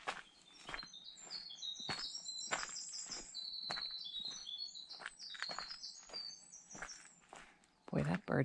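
A wren sings on a mountain hike, a long run of rapid, bright trills and chirps repeating nearly throughout, close and clear, with footsteps crunching beneath and a louder rustle near the end.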